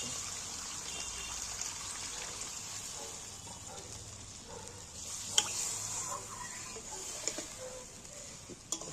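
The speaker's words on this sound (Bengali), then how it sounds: "এবার আমি পরিমাণ মতন একটু জল দিয়ে দেবো আমি জল দিয়ে দিচ্ছি" Water poured into a cooking pan of oil-fried curry, a faint, steady trickle and soft splashing that runs continuously at low level, with a few small clinks near the end.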